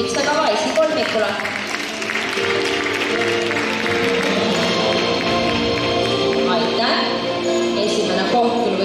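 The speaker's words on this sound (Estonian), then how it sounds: "Ja aplaus hüpitse kava esikolmikule" Audience applause for the top three gymnasts at a gymnastics club awards ceremony, steady and dense clapping throughout with music and a voice mixed underneath.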